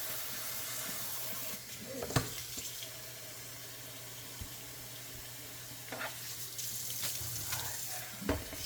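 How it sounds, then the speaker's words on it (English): Cold water streams from a kitchen tap over cooked noodles, a steady soft hiss with a few louder splashes and clatters, faint and continuous. "Just make sure they get good and saturated with cold water here."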